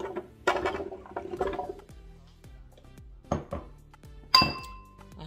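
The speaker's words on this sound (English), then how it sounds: "Just going to add that to the blender." Peeled, cut green plantain pieces are dropped into a blender jar in a kitchen, giving clattering knocks and clinks with ringing decays and a bright glassy clink near the end, no speech.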